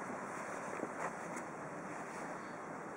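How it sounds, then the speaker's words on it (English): Compressed air blows dry grass out from around the engine of a Stiga Park 120 ride-on mower, a quiet, continuous rushing hiss with a few small bursts and no talking. "use some compressed air to blow out all this"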